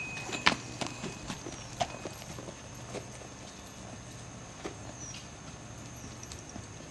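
A horse walks under a rider, its hooves giving a series of distinct, moderately close clip-clops at an uneven pace over a quiet outdoor background.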